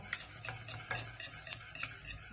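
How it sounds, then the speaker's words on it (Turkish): Egg being stirred slowly into apple cookie dough, giving soft, close scraping and tapping strokes at an irregular rhythm over low background hum, with no voices. "Böyle köşeden köşeden yavaş yavaş yavaş yavaş karıştıracağım"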